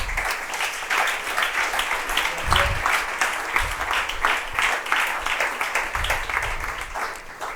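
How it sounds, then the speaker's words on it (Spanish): A church congregation at a discipleship class applauds, a steady, lively clatter of many hands with occasional low thumps mixed in, holding throughout. "Bríndele un aplauso a nuestro Señor"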